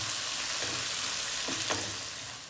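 Crab pieces fry in a pan for crab masala fry, a steady close-up hiss of sizzling oil with a few soft stirring scrapes and no talk.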